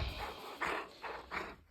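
A big dog, nearly three years old, makes three short breathy huffs or whines in quick succession, faint and close with no other sound around.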